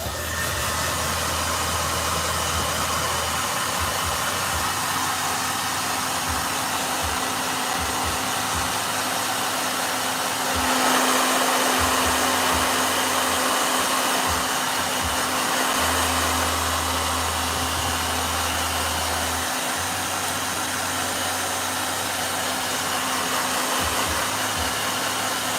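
A blow dryer runs continuously nearby, a steady loud whirring hiss with a low motor hum that swells briefly in the middle, with no voices over it.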